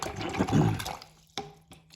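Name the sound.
rinsing a watercolor brush in water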